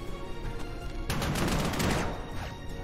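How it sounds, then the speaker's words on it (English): Artillery fire in the World War II strategy game Panzer Corps 1940: a dense, rumbling barrage of overlapping blasts swells loud for about a second, then fades back to a low background rumble. "Ah, some artillery."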